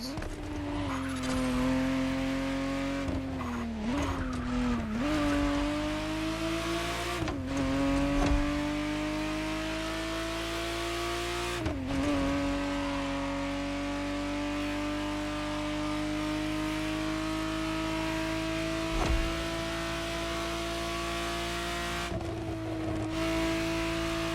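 A 1991 Ferrari Testarossa in The Crew Motorfest drives with a steady, loud engine drone, its pitch rising through the gears with brief dips at each shift and occasional sharp transients, close and continuous throughout.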